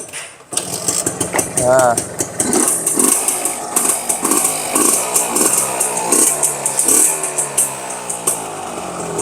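An old Suzuki RX two-stroke motorcycle in very good, original condition runs close by. It idles raspily and is blipped through a series of sharp revs, with a brief voice at the start.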